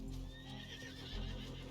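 Horse in Red Dead Redemption 2 giving a brief whinny over low rumbling game sound, close and fairly loud, with no talk over it.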